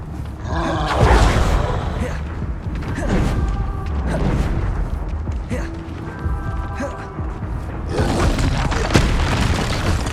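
Spell blasts from Confringo and Incendio in Hogwarts Legacy boom and roar in loud, dense bursts, with mechanical creaks, while a voice shouts spell names throughout.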